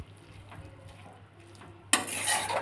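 Dill bhaji with crushed peanuts gets stirred in a pan, first with quiet faint clinks, then a sudden louder burst of scraping and sizzling as the spoon turns the greens.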